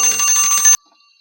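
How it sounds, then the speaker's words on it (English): A Minecraft timer going off in a bright, rapid bell-like ringing that holds loud and steady for about three quarters of a second, then stops abruptly into near silence. "Timer goes off."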